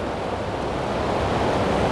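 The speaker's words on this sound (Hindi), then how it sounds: "और ये गर्म पानी निकल रहा है नीचे" Hot spring water at Gaurikund pouring out below a bathing spot, a steady broadband rush like surf that carries on unbroken and fairly loud the whole time, with no voices over it.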